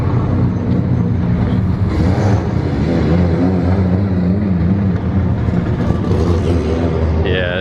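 Drift cars roar loudly at a Formula Drift event in Long Beach, their engines revving in a dense, continuous drone that stays at full volume throughout.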